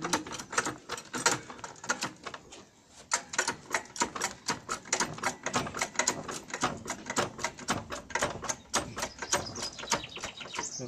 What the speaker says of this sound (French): la clé à choc